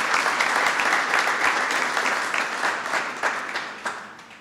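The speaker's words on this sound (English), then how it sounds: "Would you all join me in giving a vigorous round of applause to the new Secretary of Labor for the United States of America?" Audience at a White House Cinco de Mayo reception gives sustained, dense applause that stays loud throughout and tapers slightly toward the end, with no talk over it.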